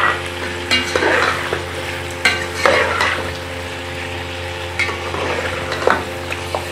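Onions frying in hot oil with whole garam masala, a steady sizzle broken by the scrape and clatter of stirring every second or two, close up and with no talk.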